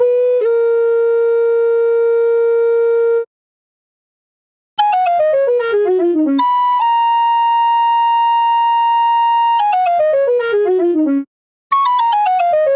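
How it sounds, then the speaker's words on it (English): A breathy, pure-toned recorder-like flute from a Kontakt sample library plays long held notes and quick descending runs, loud and clear, with two short silences. "This is like a more of a recorder sort of a sound."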